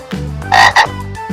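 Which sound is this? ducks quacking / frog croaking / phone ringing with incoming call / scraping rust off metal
frog croaking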